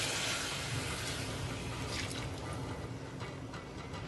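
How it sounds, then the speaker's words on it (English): Coconut milk pouring into a pot of fish soup, a steady close liquid splash and gush running continuously with no voices. "What I'm going to do now is add my coconut milk"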